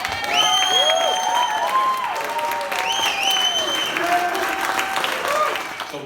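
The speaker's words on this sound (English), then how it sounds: "give you a big round of applause" A crowd at a congressional campaign kickoff rally applauds loudly, mixed with whoops and cheers rising above the clapping, sustained across the whole stretch.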